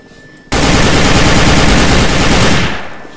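Sustained rapid automatic gunfire in Garry's Mod, a loud continuous burst lasting a couple of seconds before tapering off, with no talk over it.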